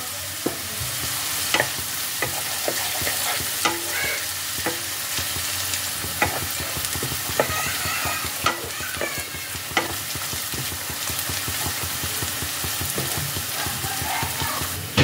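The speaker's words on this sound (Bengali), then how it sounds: "পেঁয়াজটা ভাজার সময় পেঁয়াজের মধ্যে আমি দিয়ে দিচ্ছি সামান্য একটু নুন।" Onions with a pinch of salt fry in oil for a matar paneer dish, a steady sizzle broken by repeated sharp clicks and scrapes of stirring, close and fairly loud with no talking.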